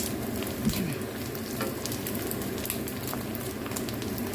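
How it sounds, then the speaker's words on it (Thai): Small fish deep-fry in hot oil with a steady, close crackling sizzle, scattered pops rising through a continuous frying hiss. "นำปลาตัวเล็กตัวน้อยมาทอดให้พี่น้องเบิ้งน้ค่ะเด้อ"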